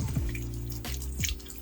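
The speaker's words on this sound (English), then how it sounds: "get a little water on my hands" Tap water runs and drips over hands at a bathroom sink during a face cleanse, a steady close splashing wash with shifting pitch as the hands move under the stream.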